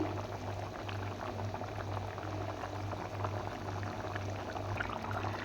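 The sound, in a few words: matar paneer gravy boiling in pan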